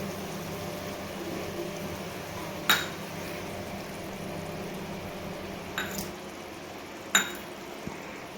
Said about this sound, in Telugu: ఇప్పుడు దీంట్లోకి అయితే ఎగ్స్ వేసుకోవాలి